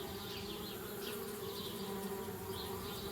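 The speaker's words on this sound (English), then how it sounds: "Darn bees, trying to move into our tree house." Bees buzz around a tree house in the adventure video game Anna's Quest, a steady dense droning hum with wavering higher whines as individual insects pass close, continuous and alone.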